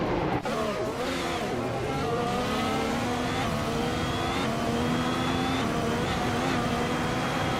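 A 2016 Mercedes F1 Euro 7 Hybrid and rival F1 cars launch off the grid at Monaco in a racing game, engines revving and rising in pitch together, loud and close with layered overlapping whines.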